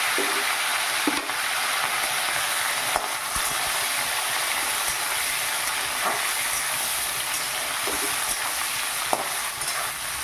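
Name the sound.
boiled young jackfruit and potato frying in hot oil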